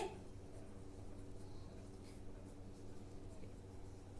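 A pen scratches across paper in a quiet room, writing out figures for an accounting calculation in short, soft strokes at close range, very faint throughout.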